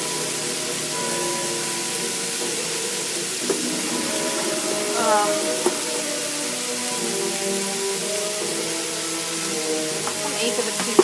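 Caramelized onions with balsamic vinegar and a little salt cook down in a pan, a soft, continuous sizzle with faint clicks, while a voice briefly speaks over it.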